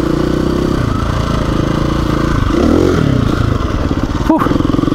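A dirt bike engine roars loud and close during wheelie practice, droning steadily with a rising rev in the middle and a brief sharp clatter near the end, over a rough constant mechanical hum.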